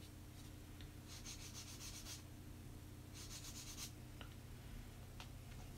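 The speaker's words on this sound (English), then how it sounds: "sanding." Sandpaper rubs against a Gundam plastic model kit part in two rhythmic bursts of quick back-and-forth strokes, close and fairly soft, over a steady low background hum.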